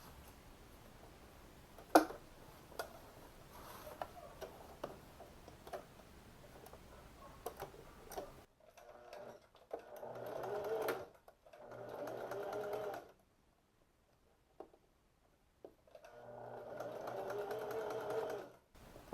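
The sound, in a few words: sewing machine stitching front waistband of shorts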